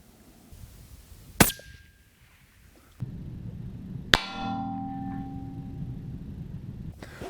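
Rifle shots on a long-range course with a 500-yard steel target: two sharp cracks, each answered by a ringing metallic clang of a bullet striking steel, with faint wind and handling noise between them.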